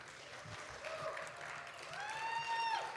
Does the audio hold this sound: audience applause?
yes